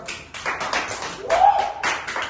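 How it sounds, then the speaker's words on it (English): Scattered hand clapping from a small group, a few seconds of uneven applause with no voices over it. "Give applause to Damba."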